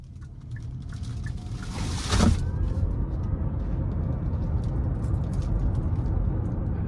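A 2023 Hyundai IONIQ 5 SEL all-wheel drive rolls along the road, giving a steady low tire and road hum with a brief whoosh of a passing vehicle early on.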